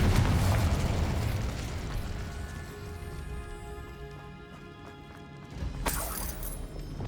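Confringo and Incendio spell blasts from Hogwarts Legacy: a heavy booming explosion at the start that rumbles and fades, then a second sharp burst with crackling debris later on.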